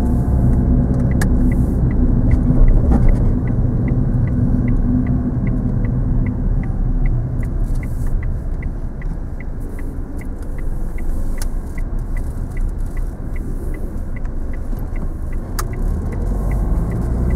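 A car on a driving lesson rolls along and turns left, its engine and road noise a steady low rumble, with a regular ticking like a turn indicator running through most of it.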